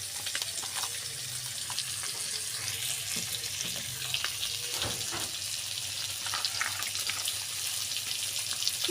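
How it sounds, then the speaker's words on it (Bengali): Food with slit green chillies sizzling in a pan while being stirred, a dense steady hiss throughout with occasional faint scrapes and clinks, close and even in level. "কাঁচা ঝাল চিরা দিয়ে দেব। একটু ভালো করে নাড়াচাড়া করব।"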